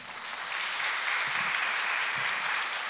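An audience at a public debate for a Fukushima governor election breaking into applause, steady crowd clapping that builds quickly and holds evenly, heard from a moderate distance.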